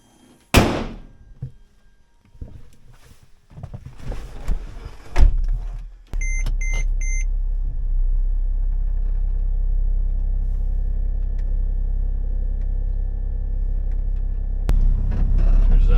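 A Mercedes GL320 CDI with the OM642 diesel: a door thunks shut, the engine cranks and starts, then settles into a steady low rumble that continues as the SUV drives on the road, with a brief chime early on.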